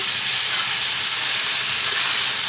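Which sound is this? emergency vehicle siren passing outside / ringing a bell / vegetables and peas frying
vegetables and peas frying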